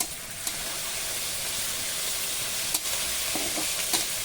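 Tomatoes dropped into ginger-garlic paste frying in a pan, giving a constant loud sizzle with a few sharp stirring clicks and scrapes.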